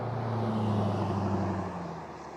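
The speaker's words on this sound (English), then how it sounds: "here comes a truck, so I'm going to slow down here" A truck goes by on a mountain road on the Kolob Terrace, a steady low engine drone that holds and then slowly fades. No one speaks.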